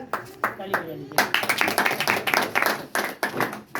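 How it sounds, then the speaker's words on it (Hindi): Hand clapping from an audience at a business meeting, loose and uneven, mixed with talk from the people present; the claps are moderately loud and grow denser partway through. "ताली बजा लीजिए।"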